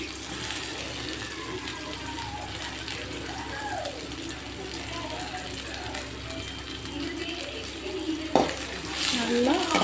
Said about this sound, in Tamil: நல்லா பொன்னிறமாக வதங்குது. வெங்காயம் வதங்கிடுச்சு.